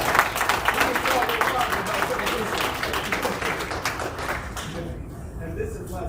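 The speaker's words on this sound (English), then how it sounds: "Give me a round of applause." A crowd at an evening conference gives a round of applause, with a steady wash of clapping that fades toward the end.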